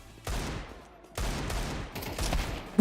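Gunfire in a video game rattles out in rapid bursts, two sustained volleys of close, loud automatic shots separated by a short pause, ending with a sharp single crack.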